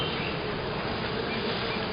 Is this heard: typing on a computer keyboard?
no